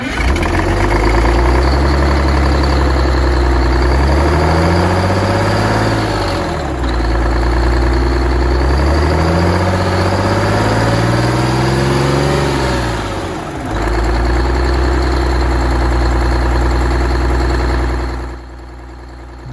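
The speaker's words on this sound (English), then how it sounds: "Takes a while to light all the cylinders." A cold cast-iron engine idles roughly just after starting, loud and close, a steady rumble with uneven firing, dipping and recovering in a few slow surges before it cuts away at the end.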